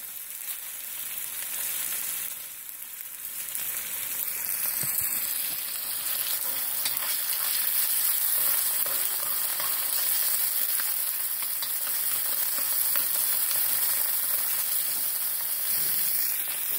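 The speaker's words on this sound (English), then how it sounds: "we're going to saute them until the" Ingredients for puttanesca sauté in a hot pan with a steady, bright sizzle and frying crackle that runs the whole time, close and continuous, with occasional stirring and no talking.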